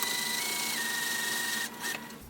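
A sewing machine runs a basting stitch through mesh for a train case bag, whirring steadily for most of the stretch before it cuts off and slows near the end.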